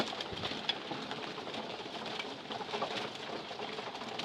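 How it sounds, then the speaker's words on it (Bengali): Pigeons feeding in a home loft coo softly and steadily, a faint, close, low murmuring mixed with light pecking and shuffling. "কবুতরগুলো খাইতেছে, দেখতে পারতেছেন।"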